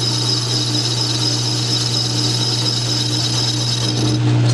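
A lathe faces stainless steel with a D.T. tool holder, giving a steady, loud mechanical hum and a high cutting whine that hold evenly throughout, with no talking.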